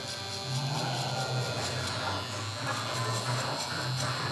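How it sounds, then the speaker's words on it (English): A TPOB X electric hair trimmer runs steadily on one side of a head, giving a close, continuous buzzing hum with slight rises and dips as it cuts hair. "we just gonna come up with the trimmer on this side"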